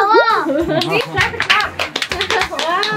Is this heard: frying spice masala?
no